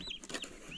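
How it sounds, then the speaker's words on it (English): Young unsexed white broad-breasted turkey poults give soft, high chirping peeps, a few short faint calls close by in a quiet space. "So they are unsexed white broad-breasted turkeys."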